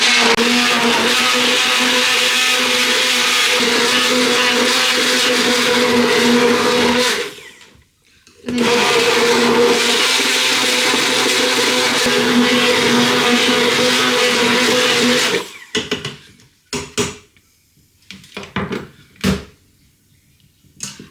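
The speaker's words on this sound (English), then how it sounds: "get your hand blender out and you can mix it until you can blend it then until it's smooth" A hand blender whirs loudly and steadily for several seconds blending stock, stops briefly, runs again, then cuts out into a few short bursts and clatters.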